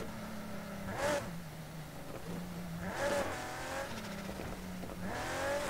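A car driven in a Need for Speed video game, engine humming at moderate volume with brief revving surges and short tire squeals roughly every two seconds, near and continuous.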